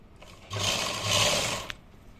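A sewing machine runs a long basting stitch on fabric, a short steady burst of motor whir lasting about a second and a half, close and moderately loud with no talk.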